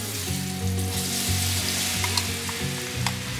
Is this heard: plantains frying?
yes